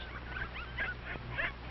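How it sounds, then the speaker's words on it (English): A mother dog calls to her puppies with soft, short yips and whimpering barks, three or four brief calls spaced apart, fairly faint and heard alone. "Mack barks to tell her puppies that everything is all right"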